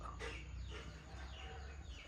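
Chickens cluck faintly in the distance, a few soft irregular calls over a low background hum.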